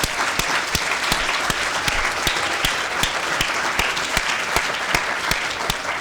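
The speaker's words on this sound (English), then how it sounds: "if we could have a round of applause for all of our award winners" Steady applause from an awards-evening audience closing a student union excellence awards ceremony, dense continuous clapping with a few sharper claps standing out, holding at an even level for the whole stretch with no talk.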